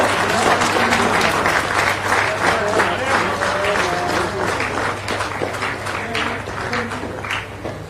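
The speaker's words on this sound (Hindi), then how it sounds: "तालियां हर बार हो, जोरदार हो" An audience claps loudly at a Hindi-language award ceremony where a chief minister presents cheques and prizes to athletes. The dense clapping fills the whole stretch and a voice talks over it.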